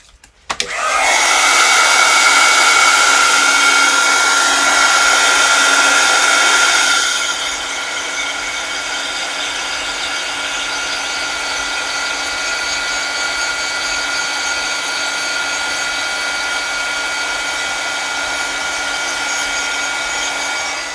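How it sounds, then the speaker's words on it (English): A heat gun blows steadily to heat-set clear embossing powder for a crafting project, a loud, constant airy whoosh and hum that drops to a somewhat lower, steady level partway through, with no talking. "let me grab my heat gun and let's heat set this real quick"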